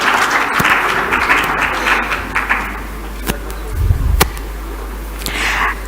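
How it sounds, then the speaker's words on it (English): An audience at a summit conference gives a round of applause, a steady wash of clapping with a low hum underneath, a few sharper knocks and a brief thump midway, continuing throughout. "Let's give them a warm round of applause"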